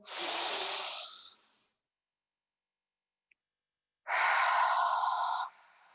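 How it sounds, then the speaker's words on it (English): Two deep, loud breaths during a wall ab vacuum posture exercise, each a long airy rush lasting over a second, heard close and alone with near silence between them. "Breathe in."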